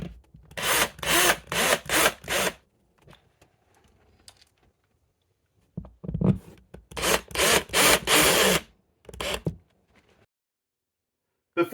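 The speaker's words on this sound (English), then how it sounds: "Now we're going to screw in the top 2 screws" Screws driven into a wall to hang a wall heater mount, with two bursts of rapid power-driver whirring and grinding separated by a quiet gap, close and fairly loud.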